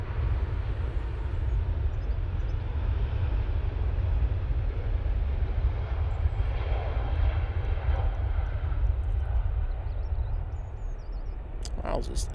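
A TAP airliner rolling out after landing at Manchester Airport gives a steady, distant low engine roar that holds evenly and fades slightly near the end, heard outdoors from a spotting position.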